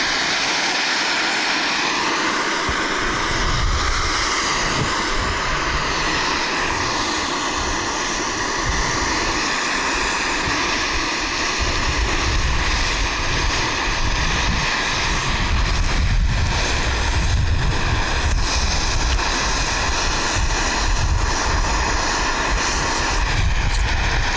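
An isobutane stove burner running at about half flame under a cast iron pan gives a steady, loud jet-like roar that holds for the whole stretch, broadband and continuous with no speech over it.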